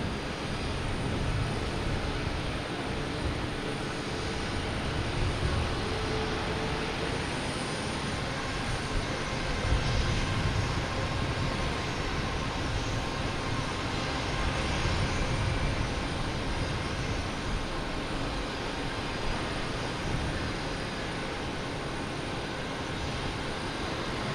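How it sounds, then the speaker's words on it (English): A Delta Embraer E175 jet arriving at Boston Logan Airport produces a steady, broad engine roar that swells slightly in the middle and holds at moderate distance throughout, with no talk. "Next coming is a Delta E175 coming in from Savannah, flight 5647."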